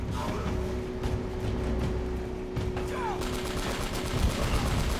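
Sustained gunfire in Uncharted: Drake's Fortune, a dense run of rapid shots and mechanical clatter at moderate volume that continues with little pause.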